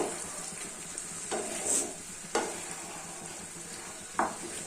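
A spoon stirs fried spice paste in a frying pan over a steady sizzle, and a few distinct scraping knocks cut through the constant frying hiss.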